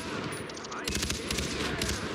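Rapid bursts of automatic gunfire ring out in the shooter game Far Cry 4 near a watchtower, loud and dense, crackling over ongoing game ambience.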